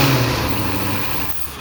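A 2015 Jaguar F-Type engine, repaired after hydrolocking, cranks over with a brief, loud, low mechanical churn that holds steady and then cuts off abruptly near the end.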